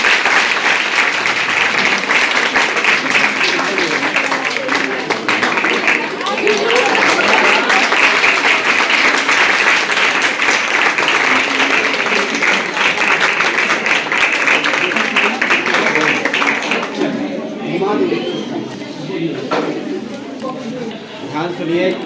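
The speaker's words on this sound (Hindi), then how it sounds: "आप जोरदार तालियां बजती रहनी चाहिए" A large crowd at a community event in Fatuha honouring young women applauds loudly and steadily for about seventeen seconds, with voices talking and calling over the clapping before it thins out.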